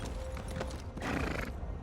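A horse in Elder Scrolls Online Morrowind gives a loud, close whinny while hooves clip-clop steadily in a quick rhythm, the neigh rising and trailing off over the continuous footfalls.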